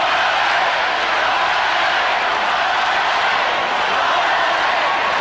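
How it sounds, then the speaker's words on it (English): A crowd at a Bulls–Pistons basketball game in Detroit roars loudly and continuously as a dense wash of voices, steady throughout with no distinct rhythm picked out. "Tough crowd, they're chanting, "Go LA.""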